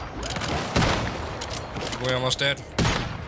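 Rapid bursts of gunfire from a suitcase weapon in a free MMO video game. The loud cracking volleys come in clusters, with a player talking between and over the shots.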